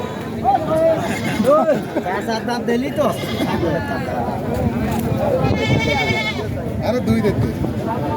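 Goats bleat repeatedly, close by, over a busy background of crowd chatter and people talking at a goat market before Eid al-Adha.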